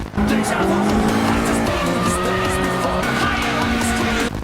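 A car drifting sideways through mountain road corners in Japan, a loud, close engine roaring at high revs with sustained tire squeal, a brief lift midway before it pulls hard again.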